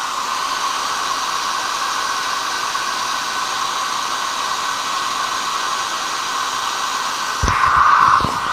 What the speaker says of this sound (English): I am going to run a hairdryer